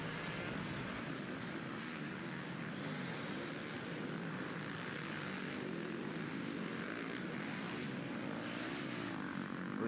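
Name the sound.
Fox FPV drone flying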